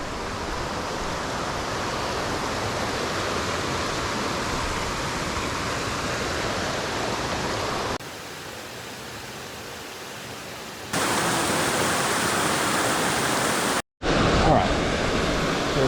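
Creeks meeting at a confluence on the Olympic Peninsula near Potlatch, Washington, a loud steady broadband rush of flowing water with abrupt level changes and a brief cut near the end.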